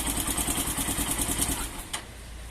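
A motorcycle engine runs close by in a quick, rhythmic chug, then the engine sound fades and drops off, as if the engine is stalling.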